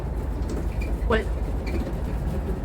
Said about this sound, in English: today it's a diesel train